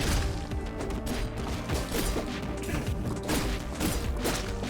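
Explosion in the video game Katana ZERO, a dense, continuous crashing roar with repeated thudding bursts that fills the whole stretch at steady loudness.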